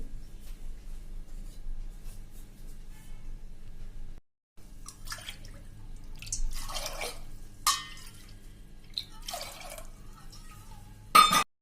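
Two to two and a half cups of water are poured into a pot in a few short, splashy bursts with drips between them, close by in an otherwise quiet room.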